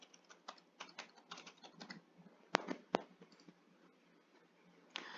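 Keystrokes on a computer keyboard as an admin name and password are entered, a quick irregular run of close taps with a couple of sharper clacks and a short pause before a final burst.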